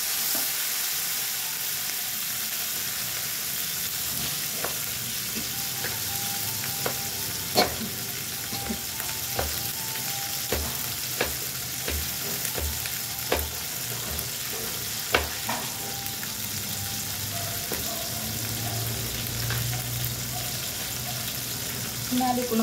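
Sweet potato leaf adobo with tomatoes frying in a pan, giving a steady close sizzle broken by scattered sharp clicks of a utensil stirring against the pan.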